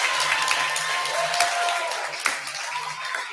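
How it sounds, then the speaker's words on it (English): Audience applause at an 8th grade graduation ceremony, a steady wash of many hands clapping for about three seconds with faint murmuring in the crowd. "give them a round of applause"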